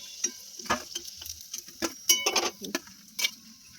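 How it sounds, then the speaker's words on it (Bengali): Leftover momos frying one by one in a pan, with a soft sizzle broken by irregular clicks and stirring scrapes of utensils against the pan, close and fairly quiet, with no voices. "তো একটা একটা করে আমি সবগুলো ভেজে নেবো।"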